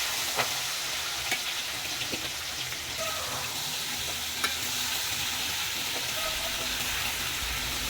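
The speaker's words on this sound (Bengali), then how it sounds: "আমি চিংড়ি মাছগুলো হালকা বাদামি করে ভেজে নিব।" Prawns fry in a pan, browning lightly, with a steady broadband sizzle that holds close and even throughout, broken by a few faint clicks and scrapes.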